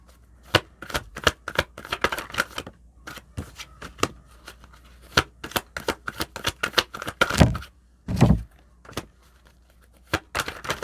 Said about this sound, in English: Now I'm going to grab 3 more cards.